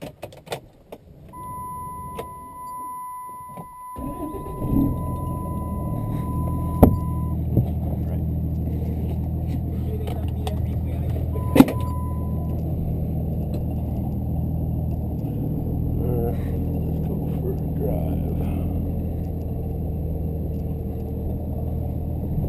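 A twin-turbo Cummins diesel truck engine runs with a low, steady rumble and a thin turbo whine, building after a brief startup, with a few clicks and knocks inside the cab.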